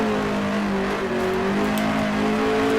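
A car engine in a racing game roars steadily with revving and gear shifts, a continuous loud drone with no talking.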